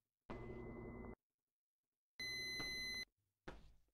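An oven beeping in a video game: two long, loud electronic tones separated by silence, followed by a shorter third burst, close and clear with no talk.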